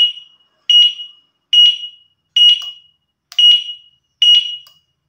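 Turn signal on an electric bicycle beeps in a steady rhythm, six short high electronic chirps about 0.8 seconds apart, each fading quickly, close and clear with nothing else heard.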